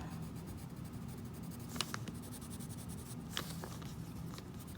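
Regular graphite pencil scratching across paper while drawing, a faint close-up scratchy hiss with a few sharper strokes standing out.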